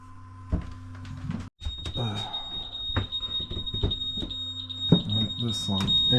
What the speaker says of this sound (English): This one, anchor alarm going off.